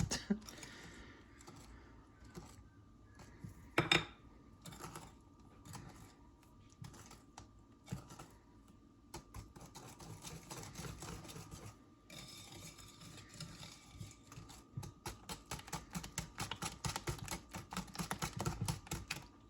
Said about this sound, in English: I'm going to give this all a good mix. try to keep it in the bowl.